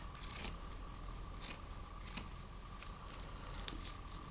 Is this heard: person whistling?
no